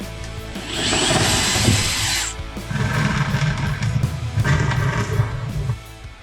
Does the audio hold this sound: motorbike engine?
no